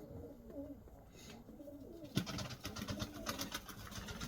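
Pigeons cooing in a loft, a soft, repeated rolling coo that grows busier and closer partway through, with light rustling and flutter among the birds.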